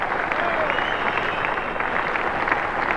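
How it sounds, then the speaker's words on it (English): Cricket crowd at the WACA ground applauding a batsman's long Test innings, a steady wash of clapping heard from a distance, even and sustained with faint crowd murmur beneath. "And the crowd really appreciating this marvellous innings by David Boon"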